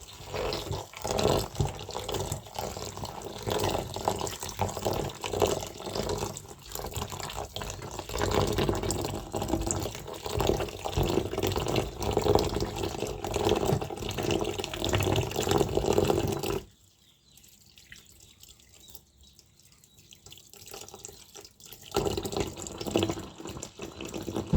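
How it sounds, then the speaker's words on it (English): Water runs steadily from a slow tap while grated coconut is squeezed for milk, a continuous close splashing that stops abruptly near the end, leaving quieter wet handling sounds. "The water is running slow, and we are gonna squeeze out as much milk as possible."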